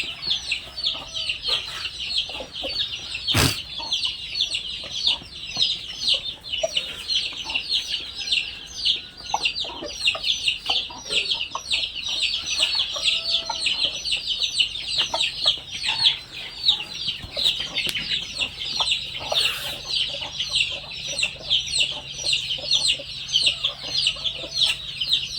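A rooster and hens cluck continuously in a farmyard, a busy overlapping chatter of birds with a single sharp knock early on.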